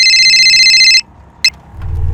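A telephone rings at a shop with a loud, high electronic trill for about a second, followed by a short chirp and then low background rumble, with no talking.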